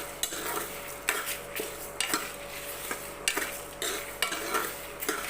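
Curry leaves frying in hot oil in a pan, a steady crackling sizzle broken by repeated stirring scrapes at a near, moderate level, with no talking.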